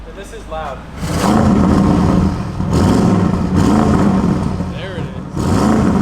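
Audi RS6 Avant with a newly installed downpipe revs up in repeated loud bursts, its engine roaring up and settling between throttle blips, with people talking over it close by.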